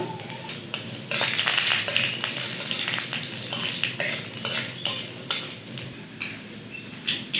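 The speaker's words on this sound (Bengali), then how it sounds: "এবার কড়াইয়ে তেল দিলাম, দুটো শুকনো লঙ্কা ভেঙে দিয়ে দিলাম" Broken dried red chillies and five-spice tempering crackle in hot oil in a wok, a close, busy sizzle with sharp intermittent pops and stirring scrapes throughout, no voices.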